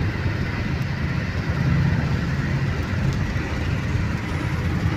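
A Porsche sports car with a 3.0 engine runs steadily, a loud continuous low rumble with no breaks, heard nearby and alone.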